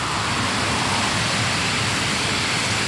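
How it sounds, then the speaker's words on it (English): Sungai Penchala, a river that further down turns into a monsoon drain, flows through jungle and kampung durian groves. A steady, loud, broadband rush of water fills the whole stretch without a break. "It's a river."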